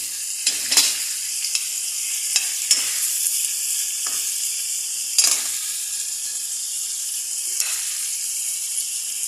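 Steady sizzling and frying in a pan as fried milkfish (bangus) goes into sautéed mixed vegetables, a continuous bright hiss broken by scraping stir strokes, close and alone.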